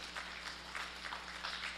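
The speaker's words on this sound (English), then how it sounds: "let's give her a round of applause for her educational display that she brought here today" Faint applause from an audience at a county fair rabbit show, honoring a young exhibitor's educational display: a steady, distant patter of clapping with a few swelling surges over a low hum, no voices.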